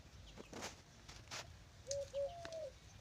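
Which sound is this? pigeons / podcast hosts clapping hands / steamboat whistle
pigeons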